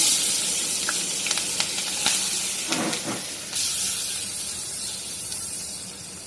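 Steady sizzling hiss of onions and green chillies frying in hot oil previously used to fry fish, with a few clinks and a louder burst of spitting midway.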